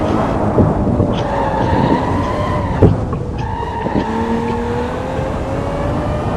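A BMW F80 M3 on the move gives a loud, continuous raspy exhaust drone whose pitch rises and falls across gear changes, with no voices over it.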